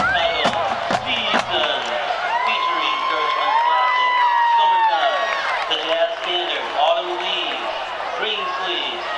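Large crowd noise in a high school football stadium during East Ascension versus Dutchtown at Spartan Stadium, a dense steady roar of shouts and cheers with sharp claps early on and whistles or horn-like tones rising through the middle.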